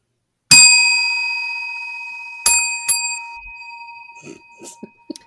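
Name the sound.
bell ringing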